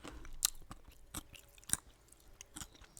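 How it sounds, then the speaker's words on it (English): Quiet, close chewing of a cough drop with sharp crunchy clicks and soft mouth sounds at an irregular pace, no talking. "I'm chewing a cough drop."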